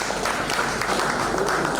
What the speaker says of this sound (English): I thought we'll get a wonderful round of applause for that